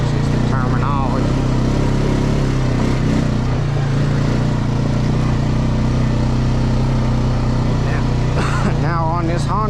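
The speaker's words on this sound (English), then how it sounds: "Now on this Honda Rancher, stock tires, second gear, two-wheel drive is what I'm using." A Honda Rancher ATV on stock tires, in second gear and two-wheel drive, drones steadily and loudly on a trail throughout, with a voice talking over the engine at moments.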